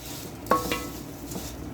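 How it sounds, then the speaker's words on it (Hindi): Poha being mixed in a pan for roasted chivda gives a couple of brief, soft scrapes and light clinks over a quiet, low hiss. "अब हम इसमें पोहा डालेंगे और अच्छी तरह इसको मिक्स करेंगे।"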